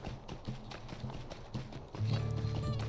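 A goat mount in Lord of the Rings Online trots with steady hoofsteps, a regular close clip-clop over faint game ambience, growing louder near the end with a low droning tone.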